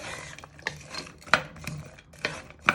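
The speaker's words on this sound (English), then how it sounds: "Stir these for 5 minutes so they go nice and brown." Ingredients such as carrots and onions stirred in a pan for chicken katsu curry, with a series of close scraping and clinking strokes at an irregular rhythm.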